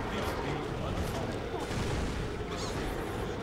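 A fire bomb attack in the video game Kaos Theory, heard as dense, continuous explosive bursts and rumbling booms layered over busy game noise, loud and close throughout, with a voice speaking underneath.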